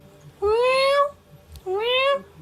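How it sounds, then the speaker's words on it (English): A hungry cat on a film set meows twice, each a clear rising-falling cry about half a second long, close and fairly loud, separated by a short pause. "Got cat on the set. Hungry cat on the set."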